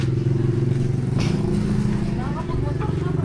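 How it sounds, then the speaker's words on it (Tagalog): A motorcycle engine rumbling nearby as it passes, a steady putter with some clatter, heard under people talking. "Ah, may dadaan ang motor."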